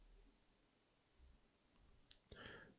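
A single crisp computer mouse click stands out in a quiet room, followed by a brief soft rustle.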